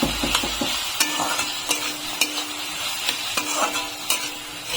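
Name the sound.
frying and stirring green chillies and turmeric in a pan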